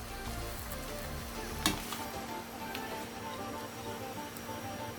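Vegetable kothu parotta frying in a pan, a faint, even sizzle with one sharp clack of a utensil against the pan and light stirring scrapes, no talking.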